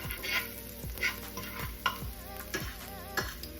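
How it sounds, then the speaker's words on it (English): Onions sauté in a pan, a faint steady sizzle broken by a spoon scraping and stirring in a regular rhythm of about one stroke every half second to three quarters of a second, with no voices present. "We're gonna go ahead and saute some onions"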